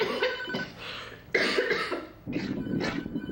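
Holly, fighting an infection, gives a series of four or five harsh, close coughs in quick succession to clear debris from her throat.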